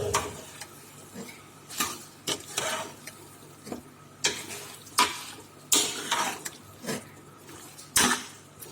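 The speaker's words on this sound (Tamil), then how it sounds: "சிக்கனை சேர்த்துட்டு நல்லா கலந்து விட்டுக்கோங்க" Marinated chicken stirred into a chicken curry in a pan, a spoon scraping and clanking against the metal in repeated strokes over a faint sizzle, close and fairly loud, with no talking.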